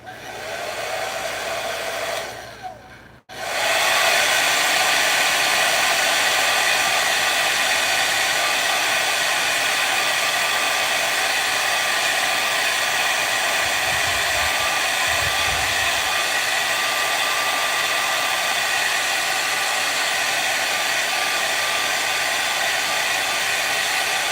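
A hair dryer blows steadily close by to dry paint during a painting class, a loud, even broadband whoosh that cuts out briefly near the start and then runs without a break to the end, with no talking.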